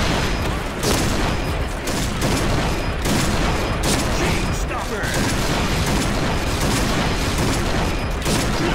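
Dense, loud gunfire in the shooter game Point Blank, with near-continuous rapid shots and booms layered in a busy, unbroken barrage.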